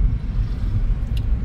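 A car rumbles close by, a low heavy engine drone with irregular surges as it pulls away suddenly, and a short high squeak near the end.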